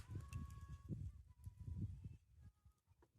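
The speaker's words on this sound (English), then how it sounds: "But it might have been geese." Faint geese honking outdoors at night near a campfire, a few repeated calls over low rumbling background noise, distant and quiet.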